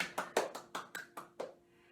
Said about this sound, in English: And give yourselves a clap.